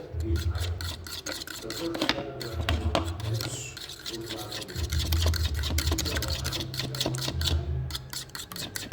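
Egg mixture for a breakfast sandwich being stirred in a bowl, a steady run of close, scraping utensil clicks and rubs against the dish, repeating quickly and evenly throughout.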